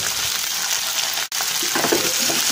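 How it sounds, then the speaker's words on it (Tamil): Eggplant sautés in a pan for biryani dalcha, a steady loud sizzle and fry hiss running throughout with a brief drop-out midway and some light stirring near the end. "கத்திரிக்காயை நல்லா வதக்கிக்கலாம். கத்திரிக்காய் கொஞ்சம் நேரம் வதங்கட்டும்."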